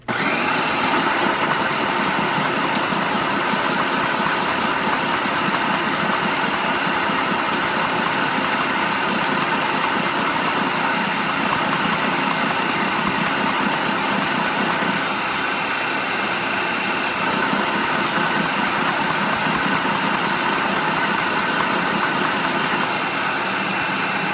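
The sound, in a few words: food processor running on chop setting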